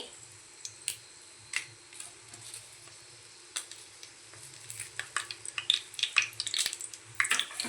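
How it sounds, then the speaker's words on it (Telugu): Dried red chillies dropped into hot oil in a home kitchen, giving sparse light crackles and pops that grow busier toward the end, with a few soft utensil clicks over a quiet background. "ఆయిల్ హీట్ అయింది కదా ఎండుమిర్చి వేసుకుంటున్నాను"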